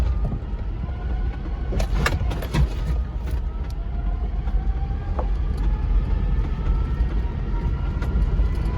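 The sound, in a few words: transfer case whine in four low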